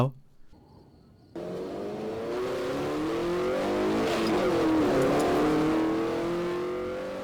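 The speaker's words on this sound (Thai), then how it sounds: "มีเด็กแว้นฮะ ขับมาตอนกลางคืนนะครับ" Night street racers rev their vehicles in the Roblox desert driving game A Dusty Trip. After a brief quiet start, a car engine cuts in and revs, then swells into a loud, sustained, rising roar that peaks and holds near the end.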